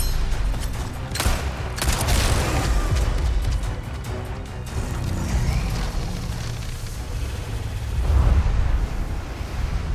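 A flash grenade going off in the survival horror game Resident Evil 4, with a loud burst and crackling boom that rolls on in a sustained, rumbling roar, followed by further heavy thuds.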